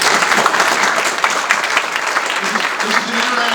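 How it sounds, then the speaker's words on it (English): A crowd claps steadily throughout at the grand reopening of a renovated campus building, with dense, even applause filling the room and a few voices faintly audible underneath. "That's the applause."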